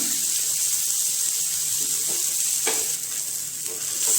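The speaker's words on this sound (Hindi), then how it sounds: "इन्हें भी अच्छी तरह से चारों तरफ से अच्छे से कलर चेंज होने तक फ्राई करेंगे।" Chicken pieces frying in a pan for a Kashmiri chicken masala curry, a steady close sizzle with faint scraping knocks near the end and no talking.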